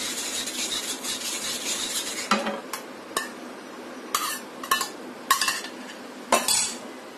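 A spoon stirring bread crumbs into a thick eggless caramel bread pudding mixture on the stove, with soft scraping and a few sharp metallic clinks against the pot spaced through the stir.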